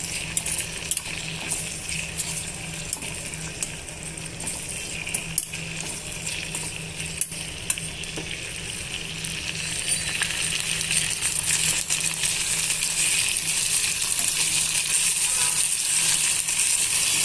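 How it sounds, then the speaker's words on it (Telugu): Tomato, onion and green chilli pieces frying in oil in a pan, a steady close sizzle and crackle that grows louder and brighter over time, with a few clinks of a utensil. "ఇవన్నీ కూడా బాగా నూనెలో బాగా వేయించేస్తున్నామండి"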